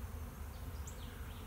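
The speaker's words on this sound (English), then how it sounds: "The old queen takes about half that hive of that colony, and she swarms" A swarm of honey bees buzzes high up in a tree, a faint, continuous droning hum carried over quiet outdoor background.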